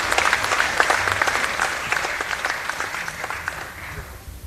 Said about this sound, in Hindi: एक बार तालियां बजा के ताई जी का स्वागत और अभिनंदन।